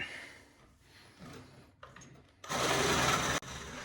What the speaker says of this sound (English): I ended up making two cuts with my sawzall, one on this side and one on this side.